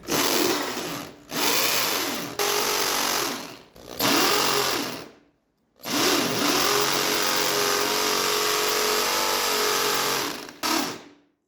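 A power drill boring holes while installing a car lift whines in several long bursts, stopping and restarting between runs, loud and close with no talking.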